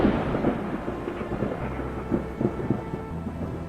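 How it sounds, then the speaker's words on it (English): A massive thunderstorm front over Argentina, with deep rolling thunder rumbling continuously and swelling in several loud bursts over a steady wash of rain. "Thunderstorms are rare in this region, so witnessing such a massive storm front was a first for many locals"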